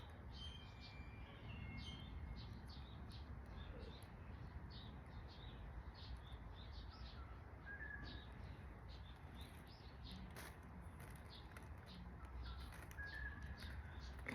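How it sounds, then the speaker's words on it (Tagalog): Birds call in the mountains, several short chirps and tweets scattered across the clip, faint and distant over a steady rumble of wind or outdoor ambience. "naririnig ko yung tunog ng ibon sa kabundukan"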